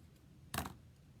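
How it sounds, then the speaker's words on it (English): Scissors cutting through ribbon for a bow, one short, crisp snip in an otherwise quiet space. "So I'm going to cut it off."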